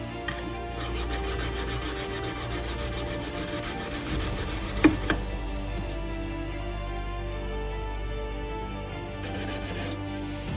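A Magnacut steel knife blade is drawn over a Norton India sharpening stone in steady repeated rasping strokes, close up and moderately quiet, with a low background hum and a couple of light clicks midway.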